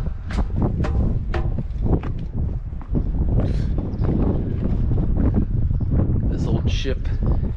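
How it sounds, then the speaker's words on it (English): Gusty wind on Iceland's Reykjanes Peninsula coast at about 48°F buffets the microphone with rough, blustery rumble throughout, while a person's voice and scattered movement sounds come through. "But it's windy."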